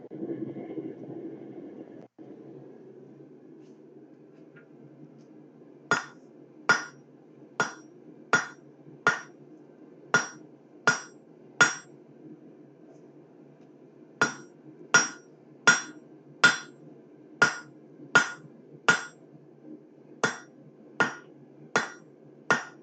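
Hammer blows peen a rivet on blacksmith tongs: after a low hum, sharp ringing metallic strikes come in evenly spaced bursts of about eight, then another run of eight and a final five, loud and close with quiet gaps between.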